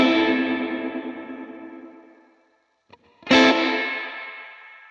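A distorted guitar chord through a Line 6 Helix dynamic room reverb rings out and fades in a long reverberant tail, low frequencies cutting out earlier than highs, then falls silent before another chord strikes and begins decaying again.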